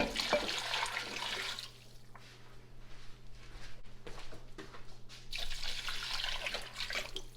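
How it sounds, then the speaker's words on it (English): Tap water running steadily into a pot for homemade bone broth, with a louder splashing gush at the start and end and a softer, steadier pour in between, heard alone without talk. "we're going to put in, it says 6 cups of water, but I want to put in 8 cups of water"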